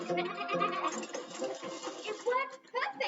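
A cartoon sheep bleats in a wavering, nasal cry while being sheared, close and clear, mixed with talking voices.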